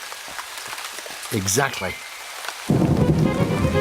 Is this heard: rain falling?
yes